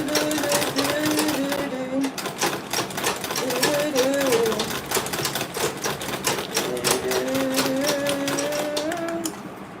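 A sewing machine runs in rapid, even bursts of clattering stitches, reinforcing a seam on an Ankara fabric tote bag, while a voice sings or hums over it throughout.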